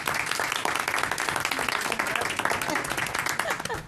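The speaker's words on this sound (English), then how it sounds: "she's getting used to these rounds of applause" Room-filling applause at a school committee meeting, a dense, loud round of clapping from the people present, thanking a colleague, carrying on steadily throughout with a few voices mixed in.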